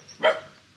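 A single short, close bark from a dog met on the street in the UAE, one quick burst standing alone with no talk over it.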